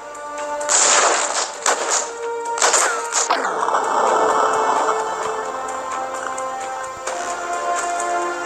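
Grenade blast in the tactical video game Breach and Clear, a loud sharp explosion that decays into a ringing rumble, surrounded by several short bursts of gunfire-like impacts.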